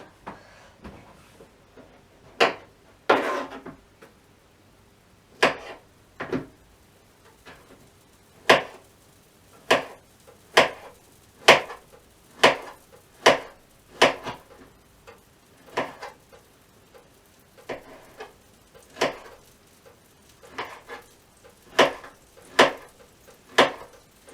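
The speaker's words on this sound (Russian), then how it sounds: "вот такими вот кружочками нарезали." Steady knife chops slicing bananas into rounds on a cutting board, a crisp tap roughly every second, close by with little else around.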